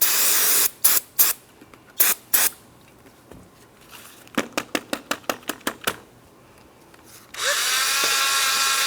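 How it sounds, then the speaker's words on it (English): A brush being rinsed with water spray during a front brake job on a 2004-2008 Pontiac Grand Prix, in several short hissing bursts, then a rapid series of spritzes and a longer continuous spray at the end, close and without talk. "I'm just going to rinse my brush."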